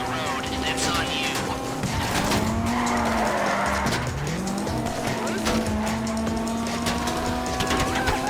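A getaway car in GTA 5 drives hard and skids, with the engine droning steadily and tires squealing loudly through most of the stretch, over busy background game sound.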